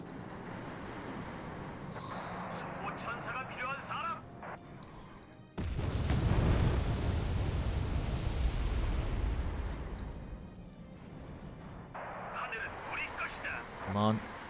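Artillery barrages and explosions in the war strategy game Wargame Airland Dragon, a sudden heavy rumbling wave of blasts that swells loudly then fades, with game radio chatter before and after.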